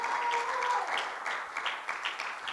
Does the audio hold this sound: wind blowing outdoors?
no